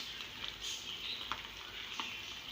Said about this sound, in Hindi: आपके फ्राई पैन में जितना स्पेस हो, जितनी जगह हो, आप उतना समोसे इसमें डाल दीजिए।